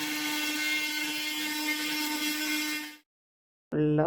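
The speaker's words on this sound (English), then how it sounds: "Just gonna use the oscillating tool and see how that works." An oscillating multi-tool cuts a slate piece with a steady, loud, high buzzing whine. The tool stops abruptly, falls silent briefly, then starts up again.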